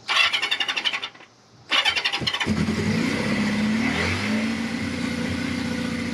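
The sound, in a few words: Kawasaki KZ650 SR motorcycle engine starting after choke and prime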